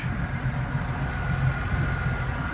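A Bayliner 185 Bowrider's Mercruiser 4.3L inboard engine idles with a smooth, steady low rumble, close by and unbroken.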